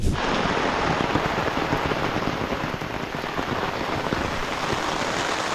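Heavy rain pouring down on farmland where planting has stopped, a loud dense continuous hiss and patter close by, steady from start to end with no voices.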